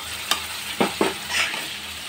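Fried potatoes and surma fish go into a hot pan, giving a soft sizzle punctuated by a few short scraping stirs and clinks of the spatula, close and clear with no talking.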